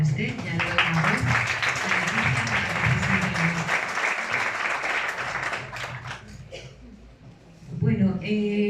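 A round-table audience in Salobreña gives sustained, dense applause lasting several seconds before it fades. A speaker's voice is heard just before the clapping starts and again as it dies away.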